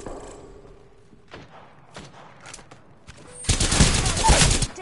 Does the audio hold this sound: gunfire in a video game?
yes